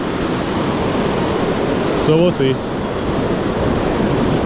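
Ocean surf rolls steadily onto a beach as a constant roaring wash, with someone briefly speaking over it partway through.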